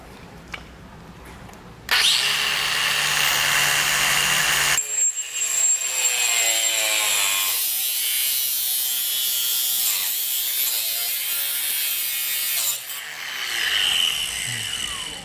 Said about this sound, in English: I'm using an angle grinder.